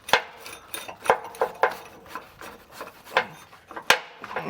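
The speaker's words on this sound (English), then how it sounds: "So I'm just going to spin this while I have my socket in place." Socket turning a nut off a long stud while fitting helper springs on a 2005 Winnebago, a series of short, faint metallic ratcheting clicks and rubs in irregular bursts, close by.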